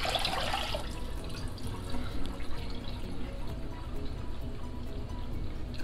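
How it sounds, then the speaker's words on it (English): Water pours into a pot for cooking grits on the stove, a strong gush at first that settles into a softer, steady running and splashing. "Now I'm going to add my water."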